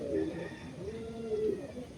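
Andhra pigeons cooing close by, a pair of soft throaty coos rising and falling over about two seconds with a little background noise.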